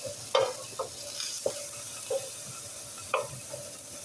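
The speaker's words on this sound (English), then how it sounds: "Sauté those for a couple of minutes." Ingredients for chicken fried rice sauté in a pan, a soft sizzle under quiet, repeated stirring scrapes and light utensil taps spaced through a few seconds.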